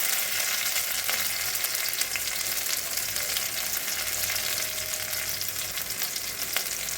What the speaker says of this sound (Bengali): দিয়ে আমি হালকা ভাজা করে, অল্প একটু ভাজা হবে